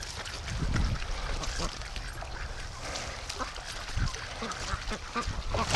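A Muscovy duck outdoors gives a few soft, husky calls amid wind noise and ambient rustling, fairly close but partly masked, with a person talking nearby.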